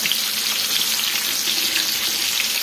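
Ridge gourd bajji fritters frying in hot oil give off a dense, even crackling sizzle, close and continuous, with no voices.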